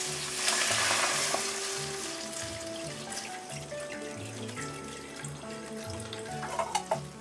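Sauce broth pours into a hot pan and boils, a steady frying sizzle with liquid splashing and bubbling, heard close and alone under background music.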